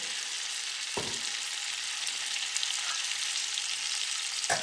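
A blended coconut and milk mixture poured into a hot pan sizzles and hisses steadily, with two brief clinks of the pan or utensil and no speech.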